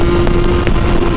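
A Yamaha RXZ 6-speed two-stroke motorcycle engine under throttle, a loud, close, continuous buzzing drone over a brief moment.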